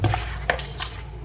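A brief stir of fish curry after chicken 65 masala powder is added, with a spoon scraping and clinking against the pot over a soft simmer, close by and short.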